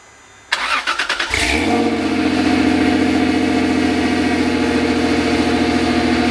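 A 1994 Toyota 4Runner engine cranks for about a second, catches and settles into a steady, loud, close idle that runs on without a break.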